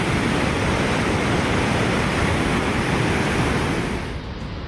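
A flooded river at Rudraprayag roars below a trolley crossing in heavy monsoon rain, a dense, unbroken rush of water that stays loud and steady throughout, easing slightly at the very end.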